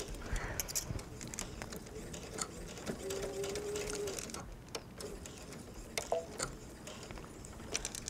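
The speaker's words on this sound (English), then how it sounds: "stitch down to the other end" A sewing machine stitches fabric for a welt pocket, running quietly in short bursts with a faint whirring hum and light mechanical clicks.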